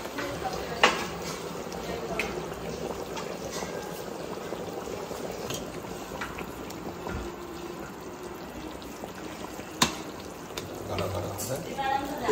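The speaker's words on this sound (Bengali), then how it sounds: "এখন পোস্ত আর সর্ষে আর কাঁচা লঙ্কা পেস্ট দিয়ে একটু ফোঁটা ফুটিয়ে নামিয়ে দেবো।" Poppy seed, mustard and green chili paste simmers in a pan with a steady bubbling hiss and occasional soft pops, while a person talks over it.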